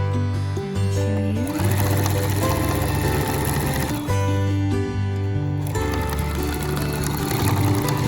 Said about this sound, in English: So I just thought I'd try to hold my camera with one hand and sew with one hand.